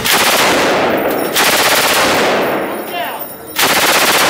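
Machine gun at a Las Vegas shooting range fires loud, sustained automatic bursts, one long burst, a brief lull near the middle, then firing resumes at full intensity.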